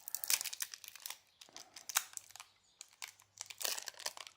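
Plastic cover peeled off a failed LED bulb, producing close crinkling and crackling bursts in several uneven pulses with brief quiet gaps between them.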